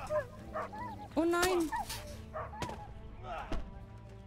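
A dog in the medieval game Kingdom Come: Deliverance yelps and whimpers after being hit, a sharp high cry followed by a few short whines and thuds, with someone speaking briefly over it.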